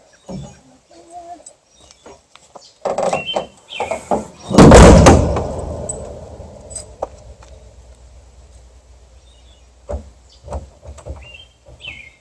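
Door on a small camper closed with mosquito netting attached, a loud sliding rumble and slam in the middle, surrounded by scattered clicks, knocks and handling sounds, with faint bird chirps in the background.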